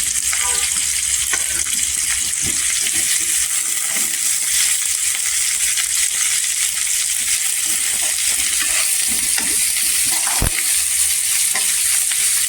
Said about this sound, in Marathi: आपल्याला इथे कांदा सॉफ्ट करायचा आहे जास्त गोल्डन पण नाही करायचा आहे